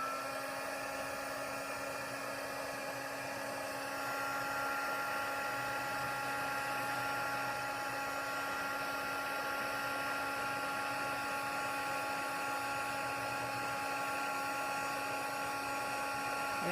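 A handheld heat tool melts embossing powder on a paper gift box, giving a steady, loud blowing whir with a constant motor tone that runs unbroken for the whole stretch with no talk.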